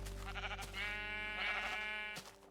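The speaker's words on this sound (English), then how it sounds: "There's sheep." In the Infdev version of Minecraft, a sheep gives a drawn-out, wavering bleat, loud and close, with a brief break before it fades.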